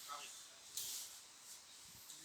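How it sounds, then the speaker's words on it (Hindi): A ceiling fan running indoors, giving a steady airy whoosh with faint periodic swells. It is moderately quiet and heard alone, with no talk. "ये पंखा ऑफ कर दो, इससे आवाज कट रही है।"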